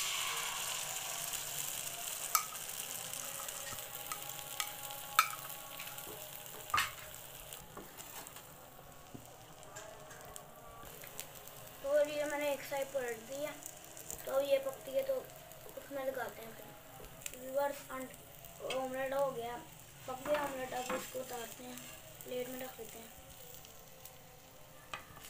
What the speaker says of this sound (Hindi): जी मैं अब ऑमलेट डालता हूँ।